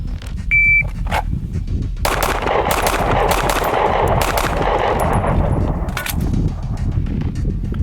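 Pistol shots fired in quick doubles during a shooting drill, a dense run of loud, sharp reports packed closely together across the clip, with a brief electronic beep near the start.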